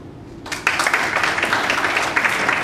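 An audience claps together as a show-of-hands style vote during a talk at a freethought conference, a broad wash of applause starting abruptly and holding steady at moderate loudness.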